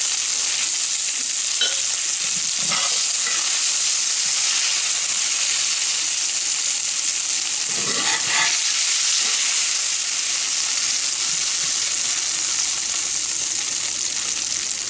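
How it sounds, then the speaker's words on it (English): Venison stew meat sizzles and hisses loudly in a hot pan, with a few scraping stirs of a spatula shoveling the browned meat, steady frying noise throughout and no talk. "once our venison has got browned up, I'm just going to take this spatula, I'm going to shovel it out"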